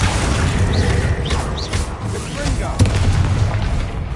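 Bombarda explosion spell in a Hogwarts video game, heavy booming blasts with scattered crackles and whooshes, a sharper hit near the end, over continuous rumbling combat noise with brief voice-like sounds.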